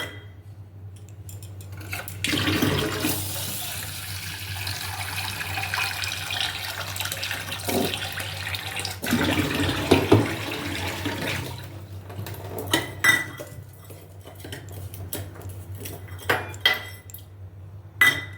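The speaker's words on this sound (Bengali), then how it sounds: "পরিমাণ মতন রাইস নিয়ে নিয়েছি, তো ভালো করে ধুয়ে নেব।" Rice is rinsed by hand in a kitchen under a running tap, with steady flowing water, splashing and occasional clinks of the pot, with no talking.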